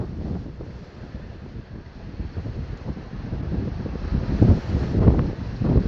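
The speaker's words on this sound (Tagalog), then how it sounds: "Hangin at ang alon mo isa ang direksyon, tapos ang agos iba." Strong wind and choppy waves on the open sea, with wind blowing from the north against an eastern current, heard as gusty low rumbling buffets and surging water that swell louder toward the end, with no voices.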